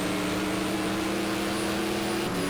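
Opponent's GT3 race car in a racing video game, engine drone close behind with a steady humming tone and slight pitch changes, heard alone.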